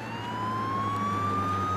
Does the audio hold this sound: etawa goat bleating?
no